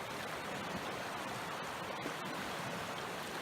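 A river swollen high in flood after days of rain in Tennessee gives a steady, loud rushing roar of fast water, constant throughout with no voices.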